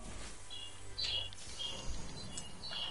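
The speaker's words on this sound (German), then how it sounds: "Geht schon wieder mal mit deinen Vögeln ab." Birds chirp faintly with short, high tweets scattered over a quiet, low background hum during a game session.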